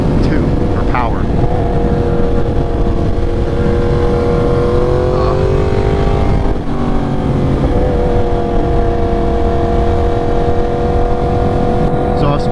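A motorcycle engine with a custom exhaust revs and holds a loud, steady drone with rising and falling pitch throughout, close and continuous.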